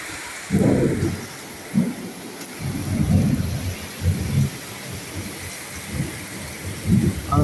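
Heavy rain pours steadily while deep thunder rumbles roll in repeatedly, close and loud, swelling and fading over the downpour.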